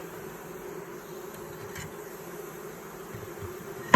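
A dense, steady buzzing of many honey bees hums close up, continuous and even throughout.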